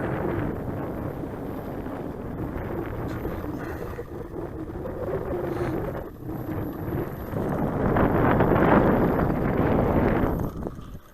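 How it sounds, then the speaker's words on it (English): Steady wind rushes and buffets across the microphone at an outdoor RC model airfield, loud and continuous throughout, swelling slightly stronger near the end. "Now the wind's blowing a little bit off my right shoulder."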